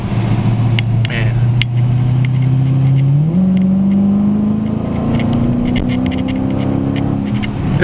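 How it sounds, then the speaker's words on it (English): A car with stock exhaust accelerates steadily from the driver's seat, the engine note droning then climbing in pitch after a gear change, loud and close throughout. "this thing sounds so good, and it has stock exhaust"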